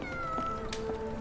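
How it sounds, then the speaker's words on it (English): A cat in a Sherlock Holmes video game gives a couple of faint meows over a quiet ambient background. "Oh, there's a kitty."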